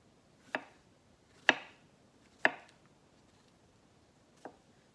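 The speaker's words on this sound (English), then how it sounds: "I'm cutting up all of these mushrooms" A knife chops through mushrooms on a cutting board, four sharp, separate thuds spaced about a second apart, the last one softer, close and clear with no talking.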